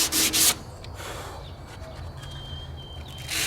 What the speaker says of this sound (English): So here I am doing the lovely sand work, which I'm not a fan of.